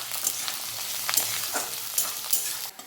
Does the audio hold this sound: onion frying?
yes